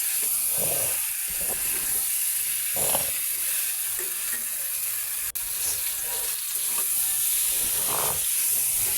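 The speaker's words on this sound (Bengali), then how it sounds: "একটু ভালোভাবে নাড়াচাড়া করে নিতে হবে যাতে মশলাগুলো ডিম এবং আলুর সাথে ভালোভাবে মিশে যায়" Fried eggs and potatoes with spices get stirred in a hot pan, giving a steady close sizzle and hiss with soft scraping strokes, no voices.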